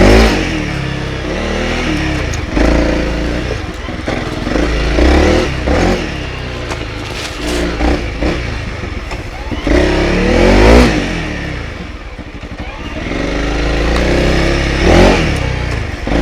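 A Honda CRF300L dual-sport motorcycle ridden on a trail, its mid-pitched engine revving and easing repeatedly in surging waves, loud and close with wind rush and occasional clatter.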